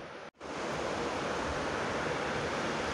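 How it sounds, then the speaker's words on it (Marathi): Water with jaggery boils in a pan, a dense steady bubbling hiss that starts after a brief silent gap and continues evenly, close and soft, without speech. "तर आता पाण्याला उकळी आले"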